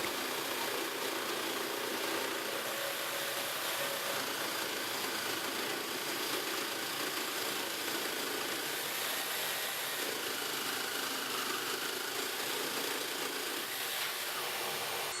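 A cordless Graphite circular saw with a 150 mm blade cuts a pine board, a steady, droning power-tool whine running unbroken throughout, loud and close, with a harsh buzzy texture and no pauses or voices.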